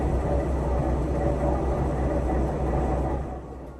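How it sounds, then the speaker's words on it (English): Loud, continuous rumble of a train on the JR Gantoku line rolling over a bridge, with a rattling low roar, fading slightly toward the end. "the train has been on the JR Gantoku line"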